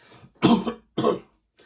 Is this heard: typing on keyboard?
no